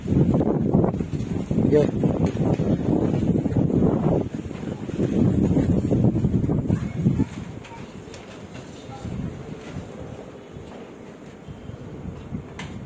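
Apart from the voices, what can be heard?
strong wind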